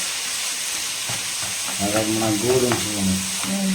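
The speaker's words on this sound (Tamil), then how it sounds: "நல்லா வதங்குது பாருங்க" Grated coconut and jaggery sauté in a pan with a soft, steady sizzle, close to the listener, while a voice talks partway through.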